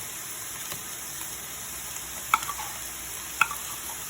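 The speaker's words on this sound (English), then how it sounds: "Now what I want to do is just toast that tomato paste a little bit." Tomato paste toasts in a hot pan with a quiet, steady sizzle and two sharp utensil taps against the pan; no one speaks.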